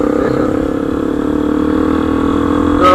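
A Yamaha FZ motorcycle with an aftermarket exhaust holds a loud, steady idle-like engine drone with a rough, throbbing rumble, swelling slightly at the very end.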